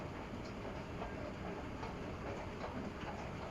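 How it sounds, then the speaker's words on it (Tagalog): A metro train approaching a station platform, heard as a steady rumble with faint clickety-clack of wheels on rails, continuous and moderately distant throughout. "The next train to National Museum is approaching"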